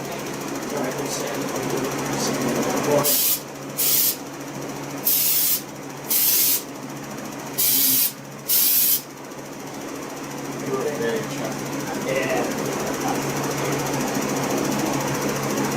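Spray gun laying clear coat on a car during a peeling clear coat repair, several loud hissing bursts in quick succession, each a second or less, over a steady compressor drone.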